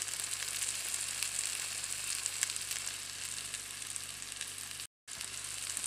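Pomfret tawa fry sizzles steadily on a hot flat pan, a loud continuous frying hiss with crackles running throughout and a brief dropout near the end; no one talks.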